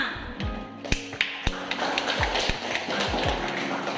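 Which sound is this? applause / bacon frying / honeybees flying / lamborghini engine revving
applause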